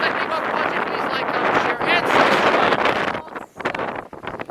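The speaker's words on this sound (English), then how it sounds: "It is so windy." Strong wind buffets the microphone with loud, rough roaring gusts that dip briefly toward the end, and a voice is faintly audible amid the noise.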